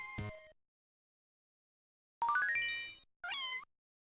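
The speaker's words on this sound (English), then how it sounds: "Looked like there was a cat right there for some reason." A cat meows in the video game Boktai 2: Solar Boy Django, three clean, separate game-sound cries with a short chirp first, then a longer rising meow and a final quick mew after a silent gap.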